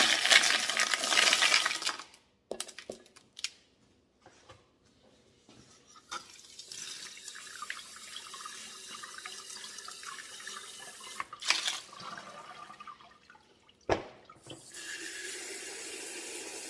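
Tumbled Mexican crazy lace stones are dumped out and rinsed, giving splashing water and stony clatters in bursts separated by quiet gaps, with sharper rattles near the middle and toward the end.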